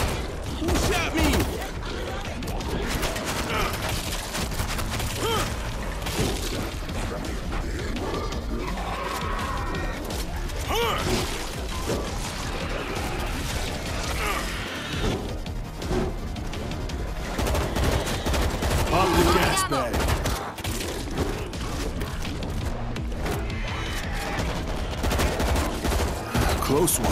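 Rapid gunfire rattles almost without pause through a World War Z zombie-shooter game scene, with bursts and volleys layered over loud action noise and a voice talking in places.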